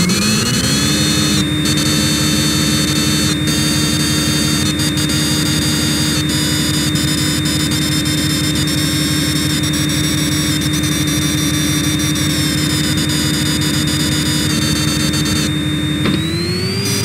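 CNC lathe running a G71/G70 turning program: a loud sustained mechanical whine with a steady spindle drone and a rising tone at the start, running continuously before winding down near the end, with no talking.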